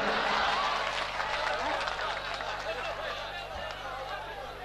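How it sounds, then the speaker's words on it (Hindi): Audience applause at an Urdu mushaira in Amravati, a steady wash of clapping from a large crowd with murmuring voices mixed in. "एक बार मुजफ्फर मामू के लिए ताली बजा दीजिए"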